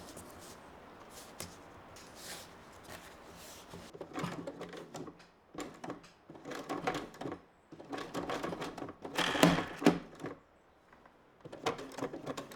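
A sewing machine pushes through many layers of heavy cotton oilcloth in short, uneven stitching bursts separated by pauses, moderately quiet and close.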